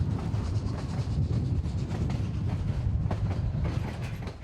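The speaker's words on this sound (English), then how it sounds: "Even though we are an operating railroad" A Cumbres & Toltec scenic railroad train in Colorado rumbles steadily along the rails, low and continuous, with faint rhythmic clacking of wheels over joints and no voices.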